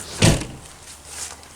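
A door on a 2015 Forest River Grey Wolf camper trailer shuts with one loud, close thump, followed by a faint rattle and then quiet room tone.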